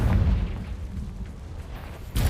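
A Confringo blasting spell bursts in Hogwarts Legacy, a loud low boom that rumbles for about two seconds before a second blast hits at the end.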